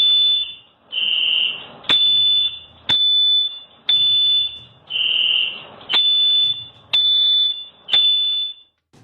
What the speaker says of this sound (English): at first disturbed by the alarm, and then seemingly accepting it and settling in